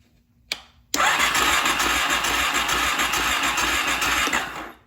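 A Suzuki DRZ400 motorcycle engine cranks on its electric starter without firing: a brief click, then a steady, loud, whirring churn held for about four seconds before it cuts off.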